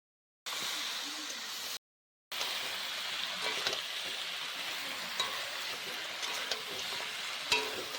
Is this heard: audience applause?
no